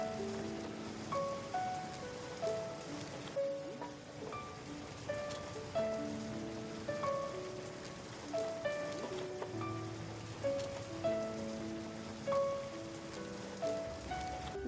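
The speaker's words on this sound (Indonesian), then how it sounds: "Jangan-jangan hujan sampai besok pagi, Ti." Steady rain falls throughout as a theatre sound effect in a school stage play, with dense patter and scattered tonal music-like notes over it, continuous and moderately loud with no talk.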